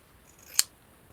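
A single crisp snip of scissors cutting through old denim jeans fabric, short and close, in an otherwise quiet room.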